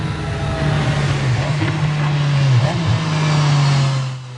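A McLaren F1 engine holds a steady, loud, guttural roar with slight pitch wobbles, cruising hard on a race track.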